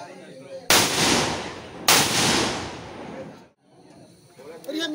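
Two firecracker bombs go off close by, one after another about a second apart, each a loud broadband crack with a long decaying rumble, followed by quieter background noise.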